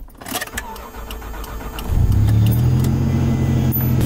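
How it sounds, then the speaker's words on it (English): A car engine cranks and catches in snowy mountains, a few seconds of faint clicks and rattles before the motor turns over into a steady low idle that stays loud and close. "Let's hope that my car starts."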